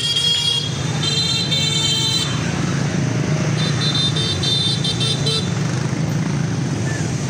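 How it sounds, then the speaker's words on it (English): Dense motorbike traffic streams through a street in Hanoi's Old Quarter: a loud, constant roar of many engines, with occasional horn toots and a busy mix of passing vehicles close by. "there's so many bikes that you probably can't hear me"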